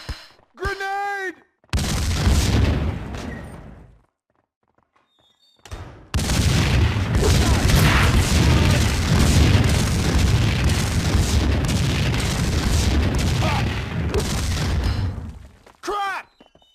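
A grenade blast in the PC shooter Max Payne 2: The Fall of Max Payne, a loud, dense broadband roar lasting several seconds after a shouted warning, with a second long rumbling burst following a brief gap.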